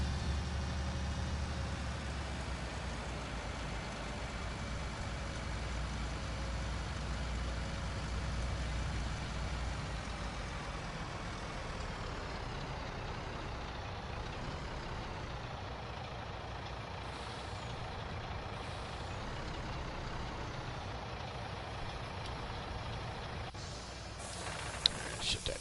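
A truck engine idles steadily in a farming role-play video game, a low continuous rumble that holds close and even throughout, with a brief hiss near the end.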